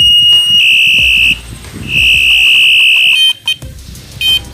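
Rechargeable electronic bicycle horn switching sound modes after a long press: loud, close, piercing electronic tones in long sustained bursts, then brief chirps and short beeps as the mode changes.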